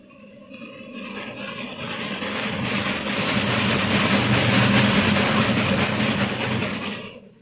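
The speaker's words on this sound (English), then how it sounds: "He hears a train roaring through the night" A train roars through the night as a radio drama sound effect: a dense, rattling rumble that swells steadily, holds loud and close, then cuts off.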